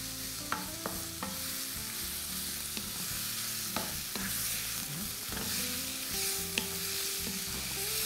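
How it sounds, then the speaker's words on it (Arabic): Minced meat with spices being stirred in a hot pan, a steady frying sizzle with repeated scrapes and clinks of the spoon against the pan, close and moderately loud with no talking. "نبدا نقلب بقى، نتوصل كل التوابل لكل حته ايه في اللحمه."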